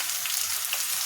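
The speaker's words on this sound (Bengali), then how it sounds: "এখন আমি সবজিগুলো সব ঢেলে দিব" Sponge gourd and other vegetables hit hot mustard oil already holding onions and green chilies, giving a steady, close, bright sizzle that holds evenly with no voices.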